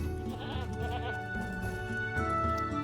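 Goats bleat in a pen in Lord of the Rings Online, a few wavering calls over steady game music, fairly close and clear.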